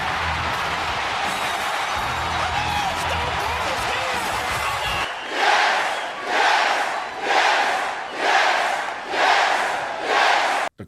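A wrestling arena crowd roars in a dense, loud wash, then breaks into rhythmic chanting with regular, swelling bursts roughly once a second.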